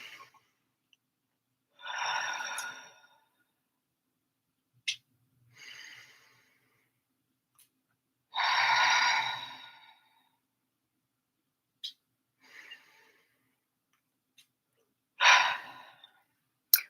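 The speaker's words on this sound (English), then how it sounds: "3 deep breaths" Three slow, deep breaths taken close by, each a long soft whoosh spaced several seconds apart, with faint clicks and small mouth sounds between them in an otherwise quiet room.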